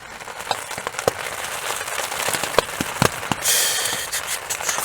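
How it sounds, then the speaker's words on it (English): Heavy rain drums steadily on a camping tarp, a dense close hiss broken by sharper drips and splats, with a brief louder gust of spray partway through. "Pretty fucking decent rain, this."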